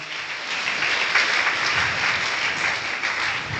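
A church congregation claps hands together during Sunday worship, a loud, dense and steady wash of applause that holds for several seconds without pause.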